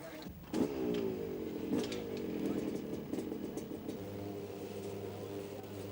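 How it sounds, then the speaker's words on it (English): A motorcycle on wet pavement on a film set revs hard with the RPMs climbing, then the clutch snaps and the engine note settles into a steady drone, fairly close and continuous. "bring the RPMs up, and then snap the clutch"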